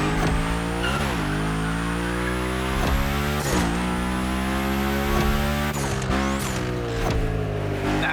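A car drifts in The Crew Motorfest, its engine revving in a steady high-pitched whine under long, shifting tire squeals, loud and close throughout.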